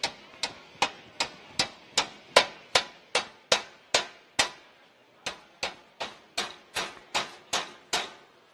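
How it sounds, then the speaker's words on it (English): Steady hammer blows on the corners of a sheet metal fender, about twenty sharp metallic strikes at an even rhythm with one short pause, close and clear with no talking. "we're actually just going to bang those corners in so that flap will come down"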